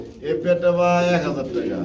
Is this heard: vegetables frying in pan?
no